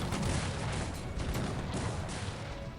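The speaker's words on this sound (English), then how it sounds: "But so are the multi-barrel cannons" Multi-barrel cannon fire in the Cossacks 3 battle game, a faint, dense rumble of repeated booming shots and crackling volleys rolling on continuously without pause.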